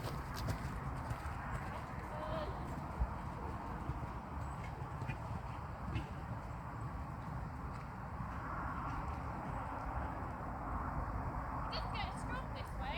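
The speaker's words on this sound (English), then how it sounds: "Bit more canter this time." A horse named Obie canters during winter jump training at home, its hooves beating out a soft, rhythmic clip-clop at a distance while a rider talks over the steady footfalls.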